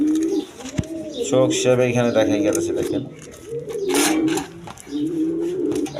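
Low pigeon coos from quality breeds roll beneath someone speaking close by, the birds' murmuring phrases repeating throughout with a brief pause near the middle.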